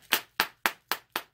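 Five sharp, evenly spaced taps of metal scissors on a hard bath bomb donut mold, crisp close knocks in a steady rhythm.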